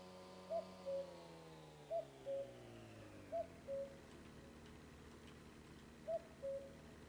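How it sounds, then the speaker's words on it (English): Cuckoo call of a bird in the driving game My Summer Car, a two-note cuckoo repeated four times at slow uneven intervals, soft and carrying, over the low drone of a passing vehicle. "I heard some people complaining about that cuckoo sound, like whatever bird that is."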